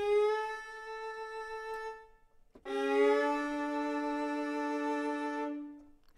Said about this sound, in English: Now, the folk fiddle has a recent addition with the true legato.